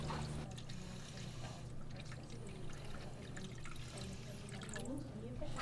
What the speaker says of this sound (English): I'm going to pour water in here to actually see how much water holds in the volume